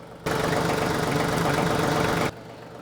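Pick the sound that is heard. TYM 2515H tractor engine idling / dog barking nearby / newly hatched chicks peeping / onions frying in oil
TYM 2515H tractor engine idling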